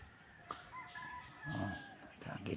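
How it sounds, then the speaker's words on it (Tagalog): Chickens at a rural elementary school crow and cluck in short, faint bursts, heard from a moderate distance over a quiet outdoor background. "Mga hayop, mga manok."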